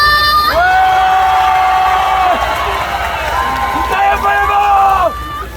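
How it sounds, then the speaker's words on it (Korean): A festival crowd cheers and shouts through steady rain at an outdoor chili pepper festival concert in a sports stadium, a loud sustained roar lasting several seconds, with a voice carrying over it before it drops off. "자, 더 힘차게 박수와 함성!"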